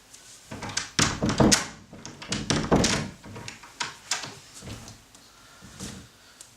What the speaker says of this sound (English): I just want to leave, but the stupid door won't open.